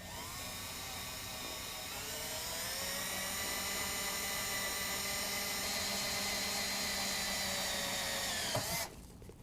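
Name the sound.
drilling through truck panel with 1/8 inch drill bit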